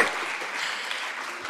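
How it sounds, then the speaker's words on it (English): An audience at a university drama awards ceremony applauds the nominees, a full, continuous burst of clapping from a crowd heard on its own for the short stretch. "So a big round of applause for all of the nominees, because producers do the work."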